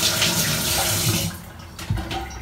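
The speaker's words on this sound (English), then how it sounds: "I'm going to fill it up with some water." Water gushes from a tap into a container, a loud rushing stream that thins out toward the end.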